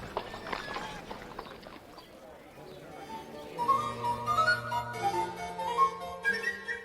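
Horses' hooves clip-clop at a walk in a steady rhythm, mid-distance, as a voice speaks and soft music enters and grows beneath.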